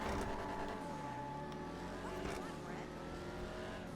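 Arena War Mustang muscle car fitted with nitrous in GTA Online, its engine droning steadily and loudly throughout with rising and falling revs under game music.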